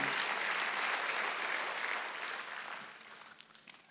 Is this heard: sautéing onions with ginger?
no